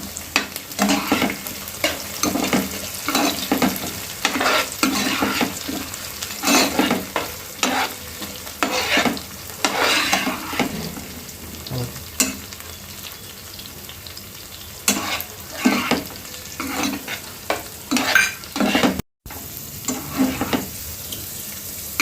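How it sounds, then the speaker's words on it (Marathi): Green peas fry in oil with browned onions, a steady close sizzle punctuated by repeated spoon-stirring scrapes and clanks against the pan, continuing for a long stretch with no one speaking. "आता आपण त्यात मटार टाकूया आणि मटार पण फ्राय करून घेऊया तेलामध्ये"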